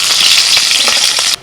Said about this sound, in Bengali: এবার ওই তেলের মধ্যে আলু ভেজে নিচ্ছি।